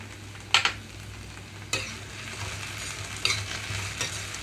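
Sliced okra (bhindi) fries in a pan after chili powder is added, with a steady low sizzle and several sharp spatula scrapes and knocks against the pan, close up with no talking.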